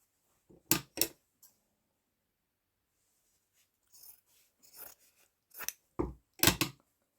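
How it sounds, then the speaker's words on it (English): Scissors cutting paper in half for journal embellishments: a couple of crisp close snips, a pause, then a further run of sharp cuts and paper rustles, quiet and alone. "I think I'm going to cut it in half."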